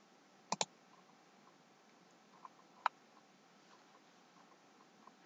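A computer mouse gives a quick double click followed by a few fainter single clicks, close and soft over a low steady hiss.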